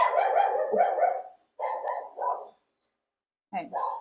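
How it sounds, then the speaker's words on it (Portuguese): A dog barks in several loud, close bursts separated by short pauses of silence. "Um cachorro latindo aqui."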